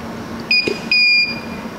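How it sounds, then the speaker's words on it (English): Two short electronic beeps sound close by from an HTP Invertig 221 welder control panel, the second slightly longer, over a low steady hum. "it beeps at you and goes solid"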